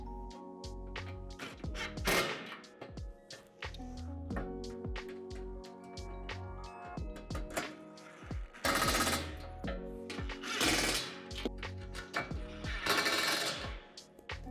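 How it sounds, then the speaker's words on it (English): Hardware on a Lifetime 10' x 8' outdoor storage shed is tightened with a Phillips bit and vice grips: several loud, bursting mechanical whirs and rattles, clustered toward the end, over a steady music bed. "To make tightening this hardware easier, I like to use a Phillips bit and a pair of vice grips."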